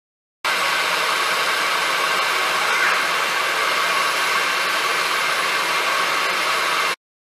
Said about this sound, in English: You're going to leave this in the blender for about 5 to 6 minutes